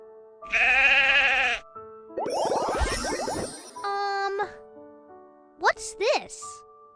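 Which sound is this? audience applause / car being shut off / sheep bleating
sheep bleating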